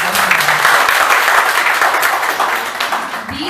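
A large audience at a monthly meeting breaks into sustained, dense applause, loud and steady throughout before tapering slightly at the end.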